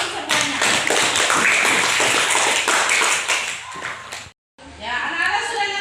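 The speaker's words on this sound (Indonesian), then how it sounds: "Ya, tepuk tangan dulu semuanya." A class of children claps their hands together in a loud, dense burst of rapid claps and taps that cuts off abruptly, followed after a brief silence by some rustling and softer sounds.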